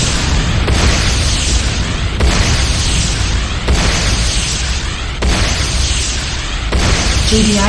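Repeated heavy booms and blasts of a Tiberium refinery being destroyed in the Renegade video game, several loud explosion bursts every second or so over constant battle noise, with game announcer voice present.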